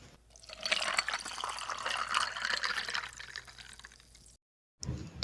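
Water poured for a drink, a close steady stream running for about four seconds, followed by a short pause and a brief final splash or clink.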